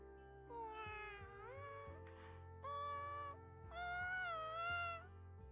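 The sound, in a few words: cat meowing, from the video game Riddle Joker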